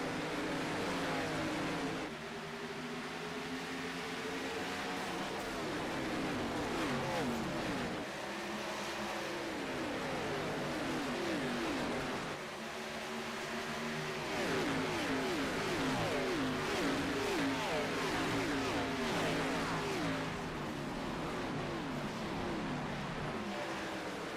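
Race cars in a video game roar as they accelerate together at a restart at Kentucky, engines climbing through repeated rising sweeps. The loud engine drone runs the whole time, with swells as the pack pulls away.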